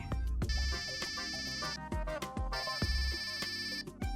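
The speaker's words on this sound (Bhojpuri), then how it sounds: "अरे दीदी के फोन बा।" A mobile phone rings with a bright, repeating electronic ringtone melody, two clear phrases separated by short gaps, moderately loud and alone without talk.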